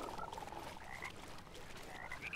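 Frogs croak in the video game Mortal Shell, a steady run of rapid, warbling croaks with a few higher chirping calls over a dense, swampy background hum.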